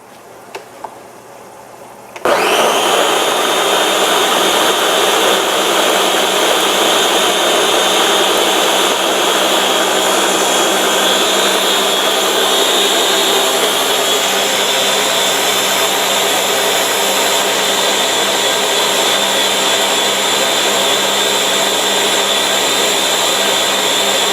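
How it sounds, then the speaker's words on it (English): A blender grinds egusi seeds to flour, starting abruptly after a quiet moment and running as a loud, steady high-pitched whirring drone that holds without pause to the end. "So we're gonna give it a blend."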